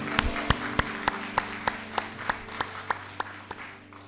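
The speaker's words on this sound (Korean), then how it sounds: "하나님께 영광의 박수를 올려주십시다" A church congregation claps in steady unison, sharp evenly spaced claps about three per second ringing over a sustained instrumental hum.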